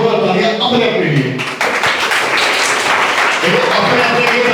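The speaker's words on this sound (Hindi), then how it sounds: "एक बार जोरदार तालियां अपने लिए." Loud applause from an audience at a university seminar on trading and financial markets, dense clapping that swells after a moment and continues to the end with some voices mixed in.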